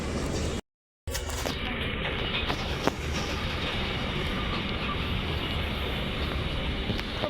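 A train rolls past close by, a loud continuous rumble with wheel clatter and rail noise throughout and a brief dropout near the start.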